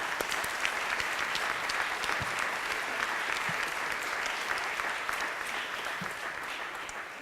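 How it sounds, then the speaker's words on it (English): A crowd at an annual recognition event applauds steadily for about seven seconds, a dense, even wash of clapping from many hands that stays loud throughout with no speech over it. "Go ahead and give them a round of applause as well."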